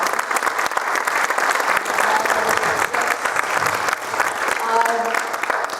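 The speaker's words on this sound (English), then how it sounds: "big round of applause" A crowd applauds continuously at a campus speaker event, with dense clapping holding steady and close for several seconds.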